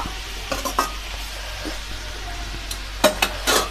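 Curry being stirred in a pot after the lid comes off, a few soft scraping strokes and light clinks of a utensil over a low background hiss, close by with no talk.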